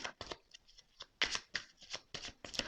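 Tarot cards are shuffled and drawn close up, producing a quick series of crisp riffling snaps and soft papery slides in uneven bursts with no talking.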